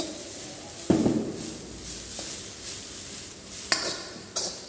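Shredded carrot sautéing in a pan, a soft continuous sizzle with a few sharp clinks of a spoon scraping and stirring against the metal.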